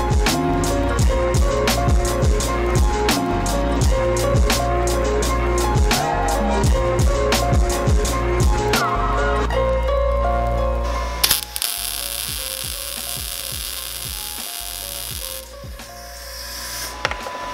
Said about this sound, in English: it feels so good to be behind a MIG welder again